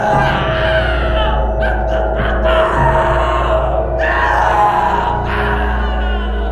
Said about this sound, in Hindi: एक रात हॉस्टल वालों ने उसके कमरे से भयानक चीखें सुनी।